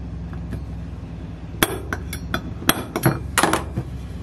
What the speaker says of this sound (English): I'm going to take my center punch, it's a spring loaded, and I'm going to punch it right in the middle